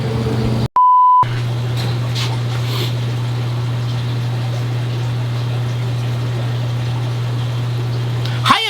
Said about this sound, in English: That's the second sump pump. That one's gotta stop.